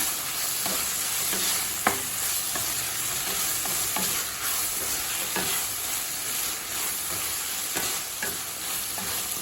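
Mint leaves sauté in a hot pan for a coconut-free mint chutney, giving a steady close sizzle with repeated scraping stir strokes throughout.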